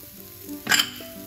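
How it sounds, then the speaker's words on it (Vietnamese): Carrots hit a hot pan with salt and pepper as they are stir-fried for Korean japchae, giving one short, sharp burst of sizzling that quickly fades back to quiet. "Mình sẽ xào phần nào cà rốt trước nha."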